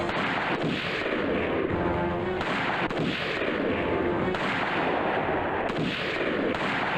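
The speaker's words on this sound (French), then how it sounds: "ils avaient genre une banque de sons, il y avait deux bruits d'armes" Repeated gunshot sound effects from an old Indian film in rapid bursts, loud and close, with sharp cracks overlapping a dense, continuous barrage of gunfire.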